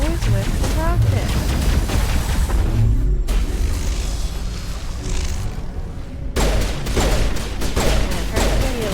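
Rocket fire and explosive blasts in the video game Mass Effect Legendary Edition, loud, dense bursts with rumbling booms during a Feros combat sequence, a brief lull in the middle and other game sounds mixed in.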